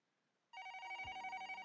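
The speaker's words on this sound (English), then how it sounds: "The phone rang off the hook that entire day." A telephone rings in the Collar X Malice video game, a bright electronic trill that starts suddenly after a near-silent moment and keeps a steady pulsing rhythm, loud and close, with a low thump partway through.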